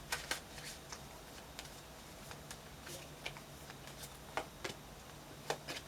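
Tarot cards are shuffled and drawn, giving soft, scattered flicks and slaps of card stock with quiet pauses between them, close up and faint.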